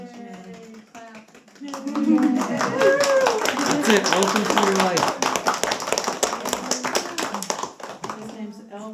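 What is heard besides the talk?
clapping at a baby naming ceremony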